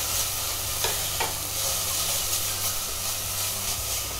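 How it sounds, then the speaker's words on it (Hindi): Vegetables stirred with garlic ginger paste in a hot pan, a steady close sizzle with faint scraping strokes running throughout, no voices. "अच्छे से मिक्स करेंगे इसको"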